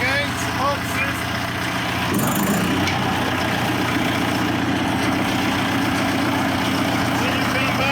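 A portable diesel fan engine runs at a steady idle, a continuous low mechanical drone with a faint metallic knock at one point, while someone talks over it.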